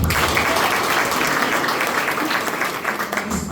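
An audience at a school open house claps steadily, a dense sustained applause that tapers slightly toward the end.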